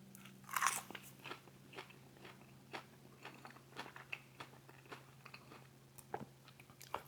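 Crispy chicken wings are bitten with one loud, close crunch, followed by a run of steady crackling chewing sounds, with no talking.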